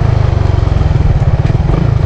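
Suzuki Raider FI motorcycle engine running steady and loud at close range during rev matching, a dense throbbing buzz with fast regular pulses, heard alone without talk.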